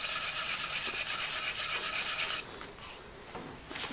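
Old 1910s pop gun being rubbed and scrubbed during restoration, a harsh continuous abrasive rasp that stops abruptly, followed by a few quieter scrapes.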